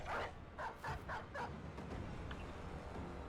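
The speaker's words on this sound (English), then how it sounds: "The dog." A dog barks several times in quick succession in a poaching-themed video game played on expert ironman mode on an unexplored map, the short yaps moderately loud over a steady background.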